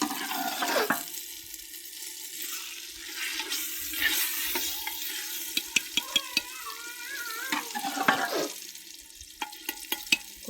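Mustard greens for village-style sarson ka saag tipped into a hot pan and stirred, giving a close, steady sizzle with scraping and clattering stirs, no talk.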